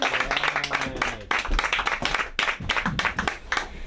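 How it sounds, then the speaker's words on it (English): An audience at an open mic comedy night claps in loose, uneven bursts of applause, close and fairly loud, with a voice speaking over it early on. "Please, please, please clap it up for Griffin James from the Doing the Stage."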